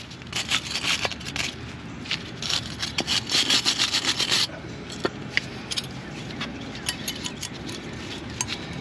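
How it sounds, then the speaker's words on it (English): Wire brush scrubbing brake parts on a Nissan Altima, a dense run of rapid scratchy strokes for the first few seconds, then scattered lighter scrapes and clinks over a steady background hum. "We got our wire brush."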